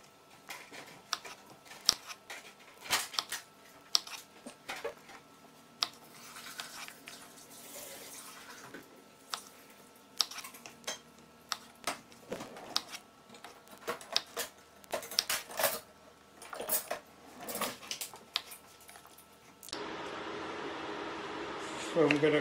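A knife cuts okra into small slanted pieces, giving sharp scattered chopping clicks and taps on a board at irregular intervals, with brief watery sounds and a run of running water near the end.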